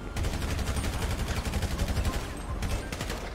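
Rapid gunfire erupts during a police raid in a role-play video game, a loud, fast burst of repeated shots in steady succession lasting several seconds.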